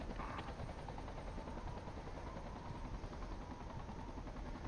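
Helicopter in a combat video game on the Lashkar Valley map, a loud constant rotor and engine roar filling the scene, with distant gunfire and a brief tonal blip near the start.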